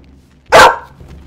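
A dog in the game Skyrim gives a single loud, close bark lasting about a quarter second, with quiet game ambience before and after.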